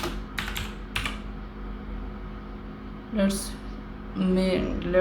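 Someone types on a computer keyboard in a few scattered clicks at first, then quieter keystrokes, with light background hum and brief soft bumps near the end.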